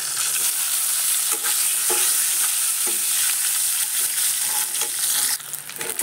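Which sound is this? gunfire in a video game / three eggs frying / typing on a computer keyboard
three eggs frying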